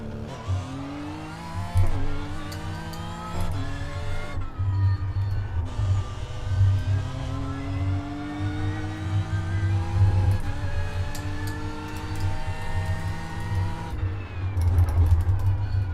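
A car engine revs hard in a racing video game during an endurance race, climbing in repeated rising pitch sweeps broken by gear changes, loud and steady for the whole stretch.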